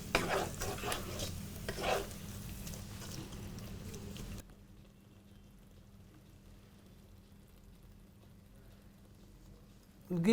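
Soya biryani mixture with coriander leaves is stirred in a pan, giving a few seconds of scraping and soft sizzling before a long quiet stretch and a sudden loud clatter at the very end.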